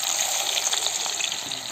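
Sliced onions hit hot oil in a pan for Kerala dum chicken biryani, giving a steady, loud, close sizzle that hisses evenly throughout with no talking.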